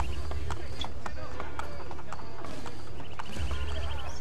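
Rhythmic clip-clop of horse hooves trotting at a steady pace in Assassin's Creed Brotherhood, over a low rumbling background, with faint tonal game sounds.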